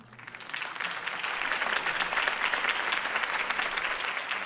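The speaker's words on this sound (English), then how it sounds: "If only Mr. Wayne, my campaign's largest backer, could have heard that applause" Steady, dense applause from a large video game crowd in Batman: The Telltale Series, swelling in over the first half second and then holding even and loud throughout.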